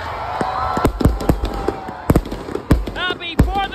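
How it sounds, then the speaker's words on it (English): Fourth of July fireworks at a lakeside park go off in rapid, repeated sharp bangs and crackles, some near and loud, with whistling rockets rising near the end and a crowd murmuring underneath. "The fireworks start right now!"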